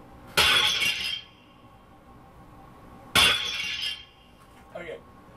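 A smashing-glass sound effect played from a Roland VR-09 keyboard: two loud, crisp shatters about three seconds apart, each trailing off in tinkling debris, then a fainter short glassy hit near the end.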